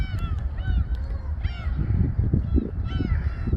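Seagulls call by the sea in several bright, downward-sliding cries spread across the clip, over a loud, constant roar of wind and surf.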